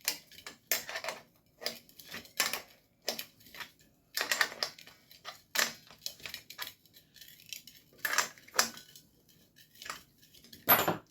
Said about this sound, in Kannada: ಇವಾಗ ಸ್ಪಾನರಲ್ಲಿ ಟೈಟ್ ಮಾಡ್ಕೊಳ್ಳೋಣ ಇದನ್ನ